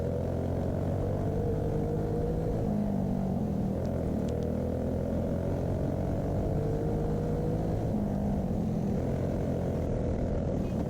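Go-kart engines race on the Emma Indoor Raceway, their loud, continuous buzzing drone rising and falling in pitch as the karts accelerate and brake close by.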